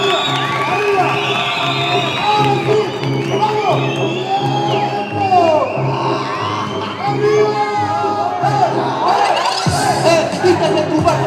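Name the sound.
crowd applauding and cheering at a rap battle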